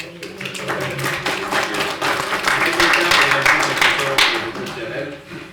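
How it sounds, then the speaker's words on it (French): Audience clapping at a municipal council meeting after an event is thanked, a dense burst of applause that swells to a peak midway and then tapers, with murmured voices mixed in. "je vous invite à donner une petite main d'applaudissement"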